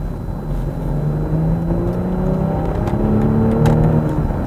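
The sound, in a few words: BMW X5 40i engine revving in sport mode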